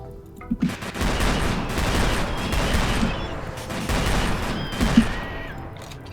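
Bursts of video game gunfire crackle and rattle across a battle with a zombie, irregular volleys and single loud shots fading in and out at mid distance, with no talking.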